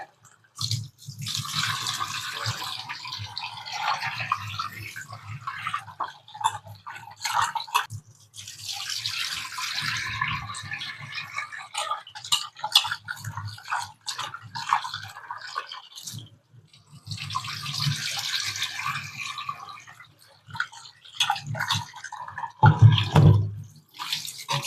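Tap water running and splashing in a sink while raw chicken is washed with turmeric, in three long bursts of gushing flow separated by short pauses, close and moderately loud.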